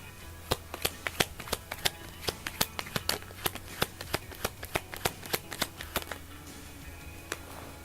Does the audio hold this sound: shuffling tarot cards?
yes